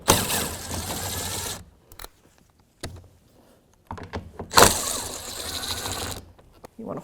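A 10mm socket and ratchet working the mounting nuts off a door mirror on a 2002-2006 Nissan Altima, loud close ratcheting runs broken by short pauses and clanks.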